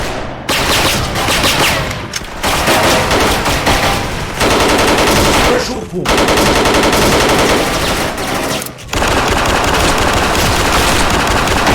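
Rapid automatic bursts from an AUG A3 Gen 2 rifle in the online shooter Special Force, loud and close, firing in long sustained volleys separated by brief pauses.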